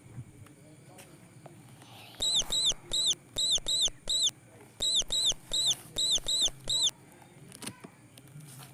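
A mouse makes a run of high, thin squeaks in quick bursts, roughly a dozen in rhythmic groups, clear and close over quiet background.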